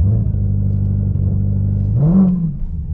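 A Dodge Challenger Hellcat Redeye Super Stock's V8 roars loud and close at a steady high rev while heating its tires, then swells in a brief rising surge near the end before settling.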